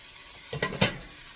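Bacon and green beans warm in melted butter in a pan, giving a soft steady sizzle broken by two quick utensil clanks, close and brief.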